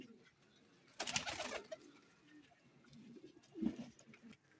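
Pigeons at a loft kept for pigeon racing coo softly in a few low, throaty bursts, with a louder flurry near the start and another coo later, moderately close with background noise.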